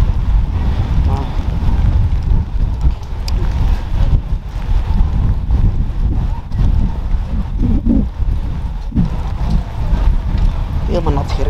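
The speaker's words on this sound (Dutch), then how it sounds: "Het is niet alleen regen, maar er is ook nog wind." Strong wind buffets the microphone in cold rain outdoors at a market, producing a loud, continuous low rumble and roar with gusty swells throughout, with some talking mixed underneath.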